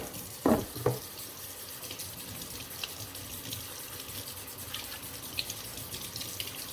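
Tap water running steadily into a sink while equipment is washed and scrubbed, with a couple of brief clattering knocks early on and a continuous hiss of flow throughout.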